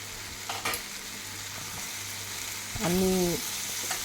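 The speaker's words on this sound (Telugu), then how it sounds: "ముందుగా కట్ చేసి పెట్టుకున్న టమోటో ముక్కలు కూడా అందులో వేసి టమోటాలన్నీ" Chopped tomato pieces frying in a pan for a sour brinjal, moringa and raw mango stew; a steady close sizzle with a few stirring knocks, and a brief tonal whine partway through.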